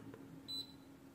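A multimeter set to continuity gives one short, high, faint beep while testing for a short on the DC rail of a Delta 24V power supply.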